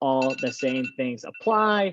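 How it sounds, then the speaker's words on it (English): A phone timer alarm rings in repeated bright electronic tones through a short burst, heard under and between a person speaking at a virtual college fair session. "That's my phone timer to tell me that I'm out of time."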